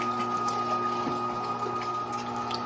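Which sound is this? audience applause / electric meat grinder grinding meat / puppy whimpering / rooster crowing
electric meat grinder grinding meat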